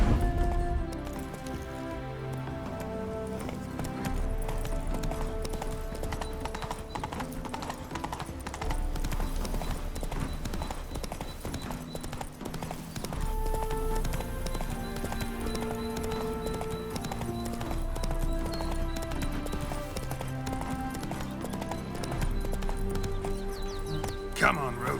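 Hooves of Roach, the horse in The Witcher 3, clip-clop steadily at a moderate pace throughout, under continuous game music and a voice talking.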